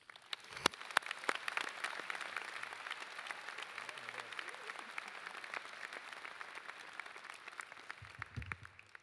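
Audience applause at a Saint Louis University new student convocation and family welcome, steady dense clapping from a large crowd filling the hall for about nine seconds, welcoming a speaker to the podium.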